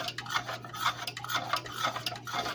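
A spoon stirring a cornstarch and water mixture in a bowl gives a close, continuous run of scraping and soft clinking strokes over a faint steady hum, and no one speaks.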